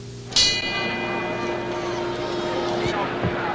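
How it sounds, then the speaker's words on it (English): Boxing ring bell clanging sharply to open round six of the 1974 Muhammad Ali vs Joe Frazier heavyweight rematch, with a ringing metallic tone that sustains over a loud arena crowd roar and commentary. "And now the bell for round six."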